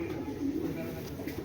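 Racing pigeons, a breeding pair with club race records, coo softly and steadily through the short stretch, a low murmuring close by with no talk over it.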